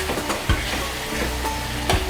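Coriander and mint paste frying in oil for an egg curry with coconut milk, a steady close sizzle with a few soft stirring knocks.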